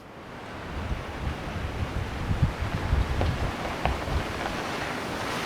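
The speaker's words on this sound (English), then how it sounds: "It's windy." Wind blowing at a winter campsite, a steady rushing roar with gusty buffeting against the microphone, loud and close throughout with no voices.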